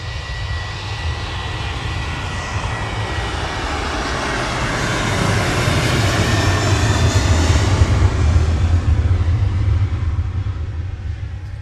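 A jet airliner departing Manchester on its takeoff roll gives a loud, steady engine roar that swells in the middle and holds, close and alone with no voices.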